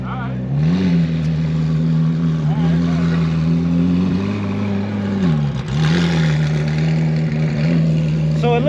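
A McLaren Senna engine runs at a steady, loud, close drone, dipping briefly partway through before settling back to an even roar.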